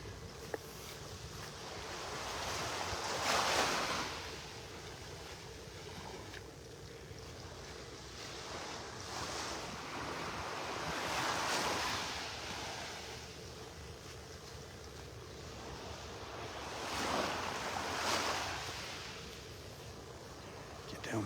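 Waves wash onto the shore in slow, rolling surges every several seconds during a morning beach walk in North Naples, Florida, a soft steady hiss of surf with light wind at the water's edge.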